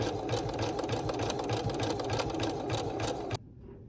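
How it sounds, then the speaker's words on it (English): A sewing machine runs a rapid, steady zigzag stitch along fabric edges for about three seconds, close and fairly loud, then stops abruptly. "We're going to zigzag it, then trim off the threads."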